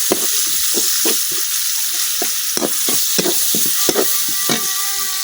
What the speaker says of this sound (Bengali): পেঁয়াজের সাথে কিছুক্ষণ বাজিয়ে নিলাম